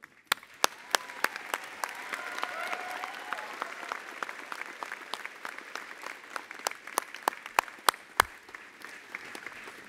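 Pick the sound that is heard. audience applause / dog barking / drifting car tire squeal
audience applause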